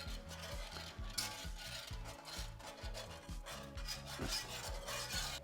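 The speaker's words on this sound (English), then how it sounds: "Now we're gonna add our heavy whipping cream. Still gonna be constantly whisking this around." Heavy whipping cream being whisked in a pot for mac and cheese, a quiet, steady rhythmic scraping of the whisk against the pan, repeating in even strokes.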